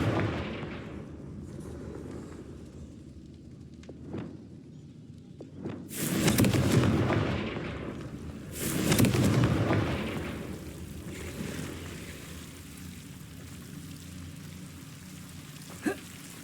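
Confringo spell explosions in the Hogwarts Legacy video game burst out as two heavy rumbling blasts a few seconds apart, with smaller crackling impacts around them over a low background.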